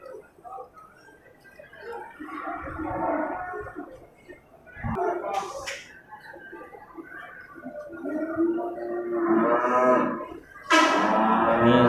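A male water buffalo at an animal market gives several low, drawn-out moos and bellows that grow louder toward the end, with some nearby market background between calls.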